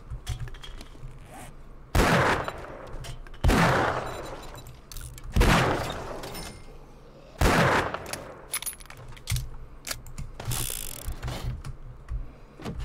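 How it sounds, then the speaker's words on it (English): Loud gunfire from a gun fitted with a laser pointer in the zombie survival game 7 Days to Die, four or five heavy single blasts spaced a couple of seconds apart, each ringing out over a low mechanical background. "So anyways, I started blasting. That is such a loud gun."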